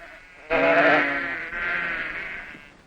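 A sheep in a Chinese herding region gives one loud, close, wavering bleat that breaks into a second, quieter bleat, which fades away, with no other sounds.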